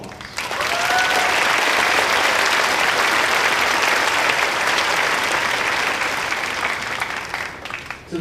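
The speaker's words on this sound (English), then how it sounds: "Let's give them a round of applause." An audience at a high school graduation ceremony applauds the faculty and staff, with dense, sustained clapping that rises quickly and holds for several seconds before thinning out.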